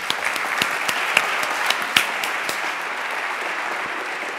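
A crowd applauds at a lightning talks session of a JavaScript conference, steady dense clapping with a few louder individual claps standing out, continuing evenly throughout.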